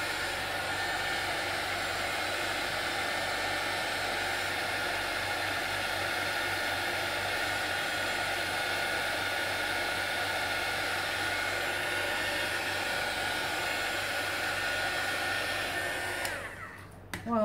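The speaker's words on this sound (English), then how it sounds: "Maybe with the heat tool I can expedite it." A heat tool blows hot air over a wet art journal page, giving a loud, steady whooshing hiss that runs unbroken for about sixteen seconds before cutting off.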